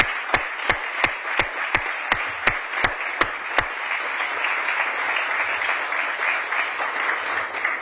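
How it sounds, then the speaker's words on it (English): Audience applause at a mayor's news conference: a steady wash of clapping with a dozen sharp, regular claps standing out near the start, fairly close and carrying on evenly to the end with no talk over it. "I hope you will all help me with a round of applause for Director Diane Lance"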